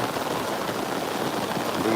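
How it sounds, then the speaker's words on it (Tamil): Heavy rain pours in a constant, dense hiss that fills the whole stretch without letting up, with faint talk in the background. "சரியான மழை பெய்யுது பாருங்க"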